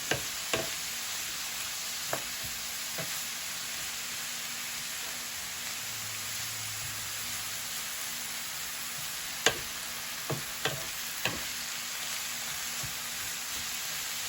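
Cabbage stir-frying in a pan makes a soft, even hiss throughout, broken by a few sharp utensil clicks and taps.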